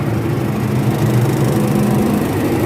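A diesel generator set with a six-cylinder Nissan diesel engine and a Stamford 125 kVA alternator runs at a steady, loud, low-pitched drone, close by and with no speech.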